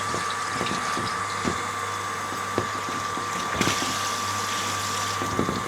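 A household water pump with a Koer KSR-12 pressure controller runs steadily after a tap opens, giving a constant loud hum and rushing water flow through 32 mm pipe, with faint clicks.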